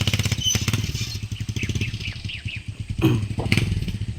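A motorcycle runs on a rural road below a house construction site, its engine rattling steadily and fairly close, with brief bursts of chatter over it.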